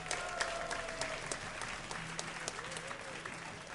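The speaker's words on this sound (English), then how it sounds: "Give a cheer for MaNa" Crowd at a DreamHack StarCraft semifinal esports event cheering and applauding steadily, a dense wash of clapping with scattered whistles and shouts, loud and sustained throughout.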